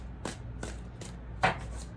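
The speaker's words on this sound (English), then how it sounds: "we're going to shuffle about 3 more times" Tarot cards shuffled by hand in a quiet room, a few soft riffling bursts spaced roughly every half second, the last one slightly louder and sharper, close and faint.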